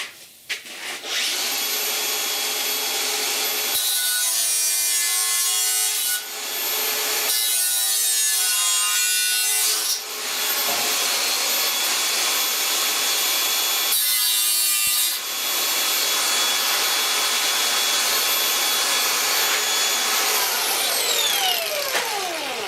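Rough cutting of rusted metal on a 1969 Chevrolet C10 truck core support with a power tool, a harsh high grinding whine in several long bursts separated by short pauses, close and loud.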